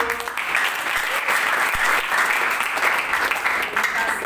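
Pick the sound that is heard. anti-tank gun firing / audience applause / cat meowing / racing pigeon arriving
audience applause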